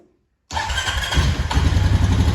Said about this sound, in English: should we do an exhaust clip? It doesn't sound the greatest.